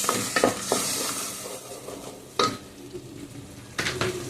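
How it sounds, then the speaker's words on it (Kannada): Rasam masala with tomato paste frying in a pan while a spoon stirs it, a steady sizzle broken by several sharp metallic scrapes and clinks against the pan. "ಮಸಾಲೆ ಎಲ್ಲ ಹಾಕಿದ ರಸಮಿಗೆ ಎಣ್ಣೆ ಬಿಡುವ ತನಕ ಫ್ರೈ ಮಾಡುವ"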